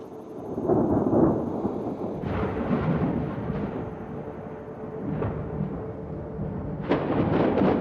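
Thunder rolls in long, heavy rumbles over steady rain at an open-country waterhole, with a sharper crack breaking through near the end.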